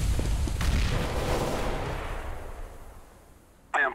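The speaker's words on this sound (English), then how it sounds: "Throwing a grenade." A grenade blast in the video game CS:GO bursts loud at the start, with a deep boom that decays over about three seconds, followed by a sharp short crack near the end.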